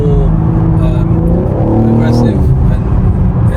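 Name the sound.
BMW M3 Competition engine sound in sport mode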